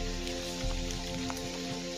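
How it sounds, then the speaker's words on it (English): Rain falls steadily on a mountain trail in the Appalachian wilderness, a constant soft patter with no voices over a low, even hum. "Pray this rain, it's kind of breaking up."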